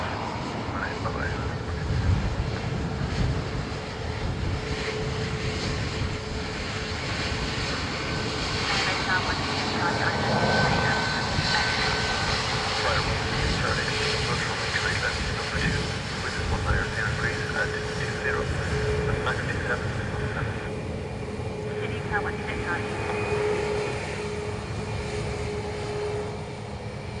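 An Air France Airbus A220 jet rumbles at Dublin Airport, a steady distant engine roar sustained throughout, with faint radio chatter and spoken commentary mixed in.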